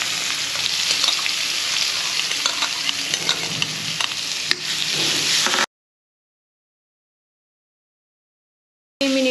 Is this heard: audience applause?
no